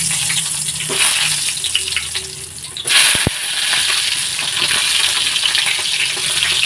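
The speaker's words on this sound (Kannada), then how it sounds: "ಇದಕ್ಕೆ ನಾವು ಚೆನ್ನಾಗಿ ತೊಳೆದು ಕಟ್ ಮಾಡಿರುವಂಥ ತುಂಬು ಬದನೆಕಾಯಿನ ನಾವು ಇವಾಗ ಫ್ರೈ ಮಾಡ್ಕೊಳ್ಳೋಣ" Washed, cut brinjal frying in hot oil, a steady loud sizzle throughout with brief stirring knocks partway through and no voices.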